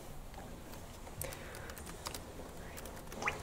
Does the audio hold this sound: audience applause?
no